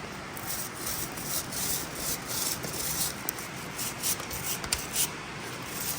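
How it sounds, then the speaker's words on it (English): Brush scrubbing a motorcycle chain on a Suzuki V-Strom during cleaning, a steady close rubbing and bristle scratching with irregular strokes, alone with no talk. "So just give this thing a scrub on all 4 sides,"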